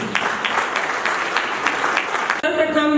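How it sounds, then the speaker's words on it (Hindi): Audience applause fills a school cultural event honoring a woman poet, steady dense clapping from a seated crowd, followed by a brief break and the sound continuing with a tonal, ringing layer near the end. "मातृशक्ति के लिए जो आदर है उससे भरकर हम लोग तालियां बजाएं।"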